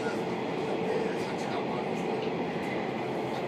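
Steady rumbling roar of a six-car rapid train running on the Agatsuma Line tracks in Japan, a continuous broadband hum with no distinct clacks or breaks.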